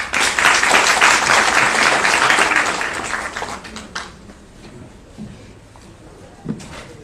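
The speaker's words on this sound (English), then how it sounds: "A round of applause for" A hall full of youth delegates at a national youth gathering breaks into loud, dense applause that holds for about four seconds, then thins out to scattered claps and quiet room noise with a couple of isolated knocks.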